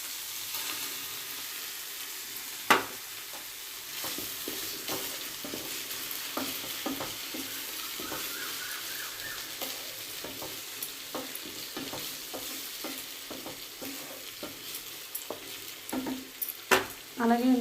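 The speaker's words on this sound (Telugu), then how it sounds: "ఆనియన్ పేస్ట్ ఇలా వేగిన తర్వాత టమాటా పేస్ట్ వేసుకుందాం." Tomato paste frying with onion paste in a pan for prawn curry, a steady close sizzle with repeated spoon scrapes and taps against the pan, growing busier toward the end.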